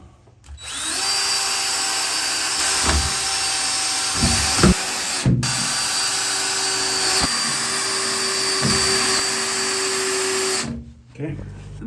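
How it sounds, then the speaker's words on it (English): A power drill bores pilot holes in wood for the wood screws of a new swinging screen door, whining steadily and close by for most of the span, with a few brief pauses and knocks. "so you always want to drill your holes first"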